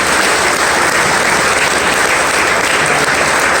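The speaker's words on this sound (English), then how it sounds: "I want to give Paula a huge round of applause" Audience applause at the closing remarks of a car dealers' association memorial event, a steady, dense clapping from a large crowd that fills the whole stretch without a break and with no talk over it.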